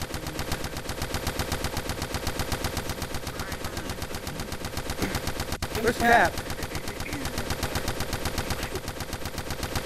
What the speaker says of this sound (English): Get some suppressed fire on that MG